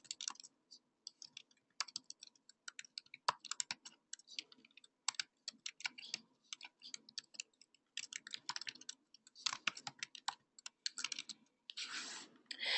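Fingers typing an event description on a computer keyboard, a steady run of quick, light key clicks in bursts with short pauses, close and fairly quiet, with no voices.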